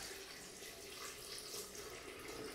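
Filtered water pours steadily from a tap into a container of cashews for homemade cashew milk, a soft continuous rushing flow that stays level and alone throughout, with no talk over it.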